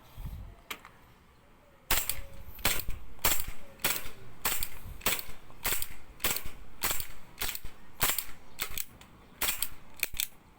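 A series of sharp, snappy airsoft gun shots pops off one after another at an irregular pace, weakened by low gas, with quiet pauses and faint mechanical clicks between.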